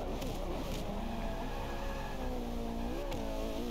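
Bugatti race car in Forza Motorsport 5 accelerating hard, its engine note climbing in pitch through the gears, loud and close, with a brief gear-shift dip partway through.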